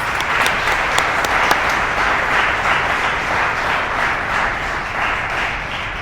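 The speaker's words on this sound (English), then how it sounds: "let's give them all a big round of applause" Crowd applause at an investor recognition segment of a beam signing ceremony, a steady dense wash of many hands clapping close and loud, with scattered sharper claps standing out throughout.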